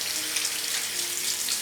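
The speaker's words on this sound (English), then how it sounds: "Washing my hands in the other sink since I decided to destroy this one." A sink tap runs steadily while hands are washed, a close, continuous hiss of splashing water with no break.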